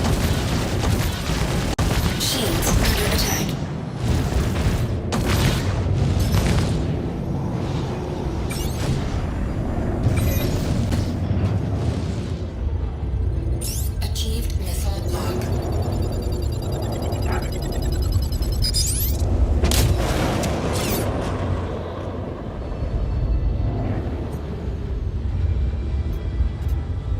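Space combat game with missiles and torpedoes striking a ship's shields, a long run of repeated booming explosions and rumbling blasts, loud and close, with electronic zaps and a sweeping tone partway through.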